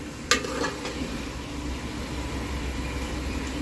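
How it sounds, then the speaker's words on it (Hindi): Beetroot and meat curry (chukandar gosht) sizzles steadily while being stir-fried in a pan, with a sharp scrape of a spoon against the metal near the start and no voices. "अब हम इसकी भुनाई कर रहे हैं। इसको अच्छी तरह हमें भून लेना है।"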